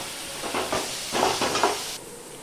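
Onions sautéing with salt and fennel in a pan for a Tamil prawn thokku give off a close, soft sizzle, with bursts of stirring that stop sharply near the end.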